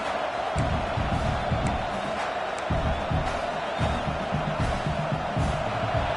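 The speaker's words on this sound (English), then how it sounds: "This crowd bringing the energy and noise early." A large stadium crowd roars and cheers steadily, with scattered whoops and a deep rumble of noise throughout.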